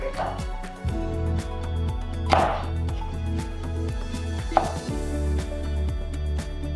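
A knife cuts julienned vegetables down into brunoise on a cutting board, with quick, regular, close taps in an even rhythm over a steady tonal background and a few sharper knocks.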